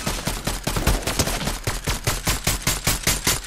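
Rapid automatic gunfire from Fortnite in a steady, fast rhythm of loud cracks that runs through the whole stretch with no voices over it.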